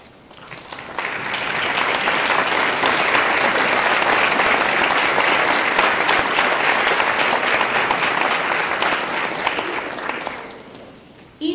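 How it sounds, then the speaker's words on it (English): An audience at an honors day convocation breaks into a sustained round of applause, many hands clapping densely and steadily for about ten seconds before fading out. "stand now and be recognized by a round of applause"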